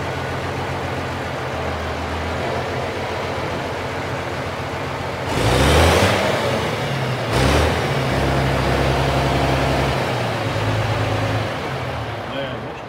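A car engine idles with a low rumble through an unfinished new exhaust, then revs hard twice in quick bursts before settling back to a throaty idle.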